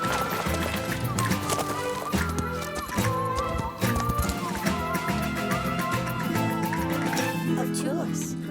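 In an animated cartoon scene, a horse pulling a cart clip-clops steadily behind it, the rhythmic hoof beats mixed in with music and people talking.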